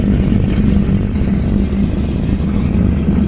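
A warplane's right engine runs after starting in the flight sim IL-2 Cliffs of Dover, a loud, steady low rumbling drone with a faint hum on top, close and continuous.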